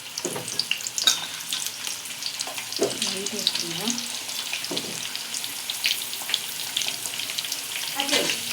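Indian gooseberries (usirikai) frying in hot oil in a pan: a steady, soft sizzle with a few louder crackles and occasional stirring scrapes, close up and alone without voices.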